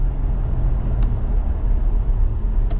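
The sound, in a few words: Porsche Macan Turbo S 2024 electric SUV driving fast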